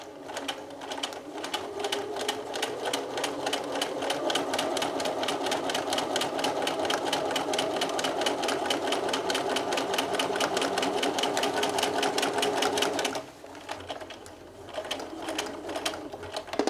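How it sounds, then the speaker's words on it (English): A sewing machine runs a fast, even stitching rattle along a seam on a fleece camera strap, close and steady for about thirteen seconds before pausing and briefly starting again. "So take a couple of stitches forward and back"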